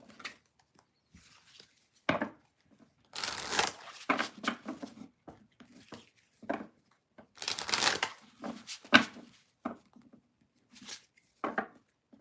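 Tarot cards being shuffled in bursts of papery riffling and slapping, several separate rounds with short pauses between them, close and fairly quiet.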